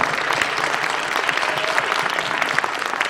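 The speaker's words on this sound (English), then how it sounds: "Another round of applause for Sterling and Billy Branch" Loud, steady applause from the audience at a blues festival interview event, many hands clapping densely and continuously throughout without talk.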